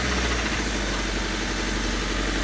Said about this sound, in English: Just let it sit there and idle.